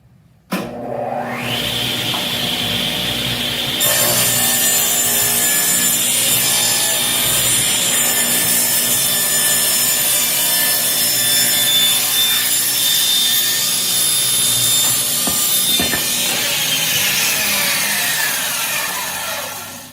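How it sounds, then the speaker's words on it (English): A table saw spins up and cuts along a wooden shiplap board, its loud, steady whine with grinding wood noise holding for most of the cut before winding down at the end. "raise my blade up to where it is equal to the top of that cut. We're going to send it on through."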